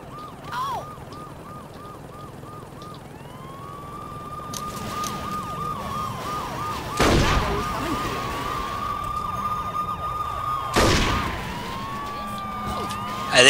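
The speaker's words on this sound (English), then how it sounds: "I think we have police cars surrounding us." Police car sirens in the video game Saints Row 2, wailing steadily and overlapping throughout as several cars close in, with two loud bursts of crashing or impact noise cutting through partway.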